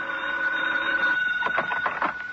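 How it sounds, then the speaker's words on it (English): A telephone rings in an old radio drama, a steady electronic warble that sounds without a break through the first second and then breaks into rapid repeated pulses, moderately loud and clear against a quiet background. "the phone rang"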